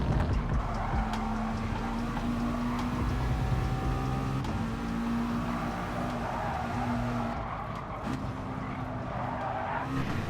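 Gr. 4 race car braking into a corner at Fuji's short course in Gran Turismo Sport, a loud steady engine drone with tonal gear whine shifting down and tires scrubbing, continuous for the whole stretch without talk.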